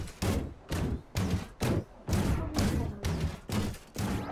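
Gunfire in the mecha battle game Super Mecha Champions: about nine evenly spaced, fairly quiet bursts of shots, each a dull heavy thump, repeating steadily with short gaps between them.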